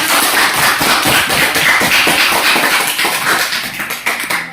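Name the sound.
applause for a group presentation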